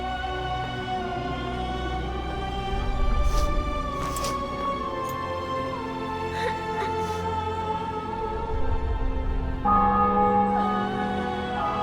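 Church bells tolling in The Witcher 2: Assassins of Kings, a steady ringing drone with a few brighter strikes, moderately loud and continuous, with no voices.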